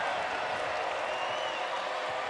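Basketball crowd at a Kansas vs Baylor NCAA women's game, cheering after a made three-pointer gives the Bears a 10-point lead; a dense, steady roar of voices and applause fills the arena throughout.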